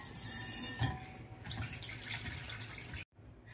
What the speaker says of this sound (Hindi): अब इसको हम दो तीन पानी से धोकर दिखाएंगे